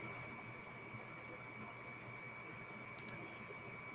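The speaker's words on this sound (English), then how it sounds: "That's what you hear in the background is my air conditioner." A home air conditioner hums steadily in the background, a constant faint drone with a fixed tonal whine and no change in level throughout.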